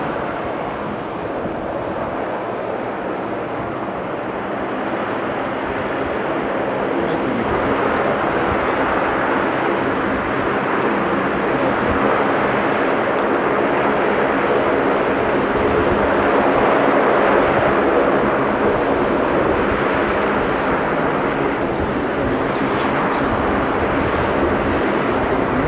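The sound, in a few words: Saab aircraft taking off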